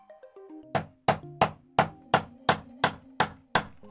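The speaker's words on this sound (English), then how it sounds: "hammer it flat from one side" Hammer blows strike metal nine times in a steady rhythm, flattening it for an ice fishing lure, each a sharp ringing clang, preceded by a few lighter taps.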